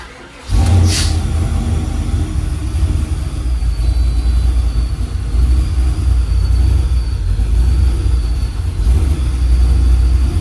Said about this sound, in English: Let's see if it'll start up with no foot on the throttle.